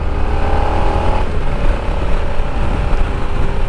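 A 2018 Suzuki SV650 motorcycle with a slightly open exhaust runs close by, a loud, steady engine drone with a throaty rumble lasting a few seconds.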